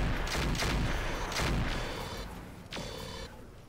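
Mech weapons fire in the Roguetech video game as a quick volley of booming shots, three or four sharp blasts spaced about a second apart, then fading.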